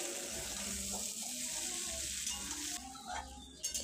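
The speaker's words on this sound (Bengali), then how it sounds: "এবারে গরম জল দিয়ে দিয়েছি।" Hot water poured into a pan of simmering jackfruit with goat liver, fat and potatoes, giving a steady close sizzle and watery rush that eases near the end, with no talking.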